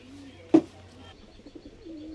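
Domestic pigeons coo softly in a home loft, one brief louder burst partway through among faint scattered calls and low background hum.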